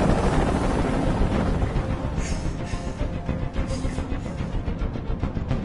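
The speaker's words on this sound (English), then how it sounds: "I can't stand that noise anymore. Tell that helicopter to get out of here." Continuous rumbling, choppy helicopter rotor noise in the video game Detroit: Become Human, during a hostage scene, with a steady thudding pulse, loud and close, with wind-like roar throughout.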